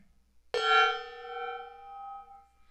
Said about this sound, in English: I do have this gong, and I am going to bang it.